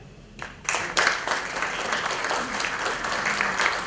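Applause for women introduced at a European women's federation conference session: a steady wash of many hands clapping that swells after a quiet opening half-second and stays loud and even throughout.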